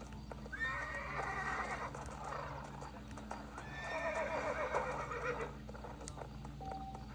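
Horse in the Red Dead Redemption video game, played on a Nintendo Switch Lite, neighing twice in long whinnies over steady clip-clop hoofbeats, close and clear against low background music.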